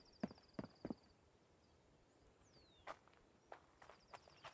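Footsteps sound in a survival video game, a few sharp, close thuds spaced in an uneven rhythm. A thin high whistling tone and a sliding chirp rise over quiet ambient hiss, and nobody speaks.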